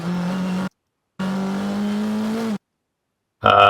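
Engine of an NP01 EVO race car at full throttle around Sonoma in a racing video game, a loud, steady high whine in two long bursts split by silent gaps, then a short burst at the end.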